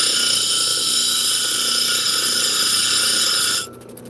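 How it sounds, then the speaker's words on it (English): A dressing stone pressed against a spinning lapidary grinding wheel to clean it gives a loud, steady high-pitched grinding whine that cuts off near the end, leaving the quieter hum of the machine. "I'm going to use this beautiful stone right here to clean the wheels"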